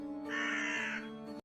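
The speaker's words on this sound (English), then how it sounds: "With a loud flapping of its wings, the blue crow lands onto the man's shoulder." A crow's single drawn-out, harsh caw, close and clear over a low humming musical background, in a Tsukihime visual novel scene, followed by a brief drop to silence.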